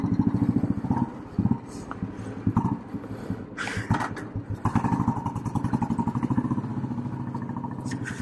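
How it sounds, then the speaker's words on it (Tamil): Royal Enfield Bullet motorcycle starting up, a few clunks and revs giving way to a steady, loud single-cylinder thump that keeps going as the bike pulls away, heard close by. "வண்டி ஸ்டார்ட் பண்ணி கிளம்பிடுச்சுங்க."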